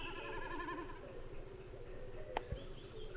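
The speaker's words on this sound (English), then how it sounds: "Это высоко в голубом небе такует бекас." Common snipe drumming high in a blue sky, a wavering, bleating tremolo like a lamb that pulses strongly for about a second, then fades into faint ambience with a couple of brief clicks.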